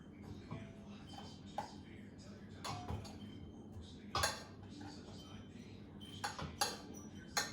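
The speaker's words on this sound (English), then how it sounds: "I'm just going to dump this rice into this egg and milk mixture and sugar and vanilla" Cooked rice tipped from an older pan into a bowl of egg, milk, sugar and vanilla custard, with scattered metallic clinks and scrapes of spoon against cookware over a soft, steady kitchen background.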